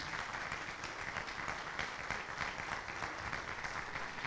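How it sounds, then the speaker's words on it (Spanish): Audience applause at a conference on alternative conflict-resolution methods, an even, continuous wash of clapping from a seated crowd, heard alone at moderate level without speech. "Le damos un fuerte aplauso"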